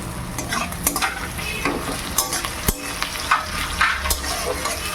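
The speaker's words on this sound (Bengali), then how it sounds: "পেঁয়াজ আর টমেটো একটু ভাজা ভাজা করে নেবো" Chopped tomato and onion fry in a pan for dahi chicken while being stirred, giving a steady crackling sizzle broken by scraping stir strokes at an irregular pace.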